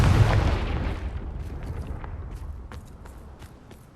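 A Confringo blasting curse explodes in the game Hogwarts Legacy: one loud, close blast that rumbles and fades over a few seconds, followed by faint scattered clicks and crackles of debris.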